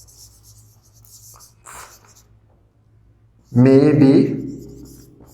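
During a Class 10 trigonometry lesson, a pen or marker makes faint scratchy strokes on paper or a board before a loud nearby voice cuts in.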